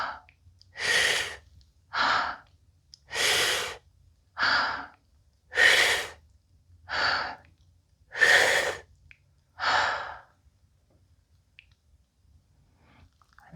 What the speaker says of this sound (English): And breathe deeply.